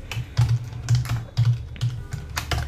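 Typing on a computer keyboard to fill in a web payment form, quick irregular clusters of close key clicks with short pauses between bursts.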